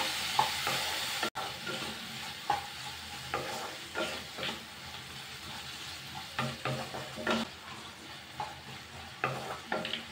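A spoon stirs chopped tomatoes with salt sizzling in a hot pan for a tomato buttermilk curry, giving repeated scraping strokes over a constant frying hiss, close and clear.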